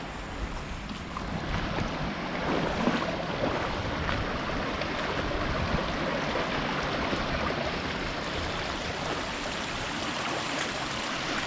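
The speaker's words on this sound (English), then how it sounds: "Poor little stream, so caged in." Steady rushing and gurgling of a small, tightly channelled stream flowing, continuous broadband water noise throughout with no voices.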